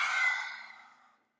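A single forceful open-mouthed exhale, a lion's breath in a yoga breathing practice, rushes out loud and breathy at first then tapers off over about a second.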